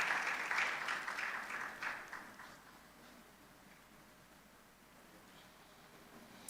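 An audience at a money and banking summit applauds a panel speaker walking up. The clapping is fairly loud at first, fades over a few seconds and leaves quiet room tone.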